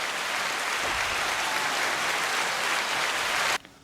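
Dense, even applause for Dustin Slentz, a steady wash of clapping from a small group that holds at full strength and then cuts off abruptly.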